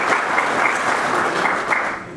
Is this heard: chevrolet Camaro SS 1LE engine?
no